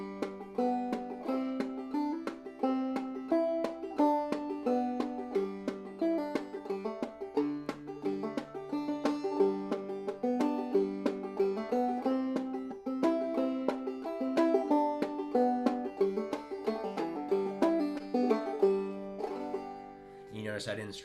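Clawhammer banjo played solo and close, a continuous run of bright plucked notes with ghost strums, skipped strokes that leave gaps so single notes ring, and a fuller strum near the end.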